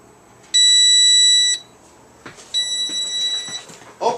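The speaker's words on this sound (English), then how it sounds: "the timer is going off" A kitchen oven timer alarm going off while biscuit-style food bakes: two separate bursts of steady, high electronic beeping, each about a second long, loud and close.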